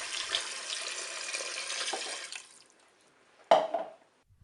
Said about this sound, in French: on va recouvrir le riz tout simplement avec de l'eau